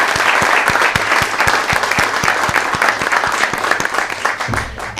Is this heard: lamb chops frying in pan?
no